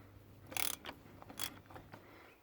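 Ratchet clicks from a half-inch drive turning a cup-style oil filter wrench on a Toyota 86, a few quiet mechanical ratcheting bursts close by in a garage, with no talking.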